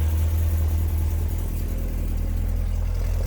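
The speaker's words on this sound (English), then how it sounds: "if you want the car to be quiet, stealth mode, as we walk around, you'll hear this is stealth mode" A Corvette C7 Z06 fitted with 2-inch headers, no catalytic converters and an NPP exhaust idles in its quiet stealth mode, a steady, low, deep rumble heard up close with no talking.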